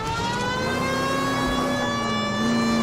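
A police car siren in the L.A. Noire video game wails as a loud, steady tone with a slow slight rise and fall, sounding alone with no voices.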